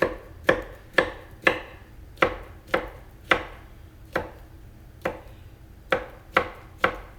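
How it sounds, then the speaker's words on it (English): Knife chopping through two bananas on a cutting board, about fourteen crisp, separate thuds at an uneven pace, close and clear with quiet between strokes. "I cut them in half lengthwise and in half again in quarters so that I have doable chunks in there."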